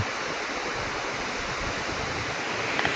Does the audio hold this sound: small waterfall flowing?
yes